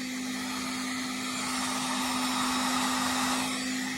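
A heat gun blows steadily on faded dirtbike plastic, a constant loud whooshing drone with a strong steady hum, close and unbroken throughout, with no talking.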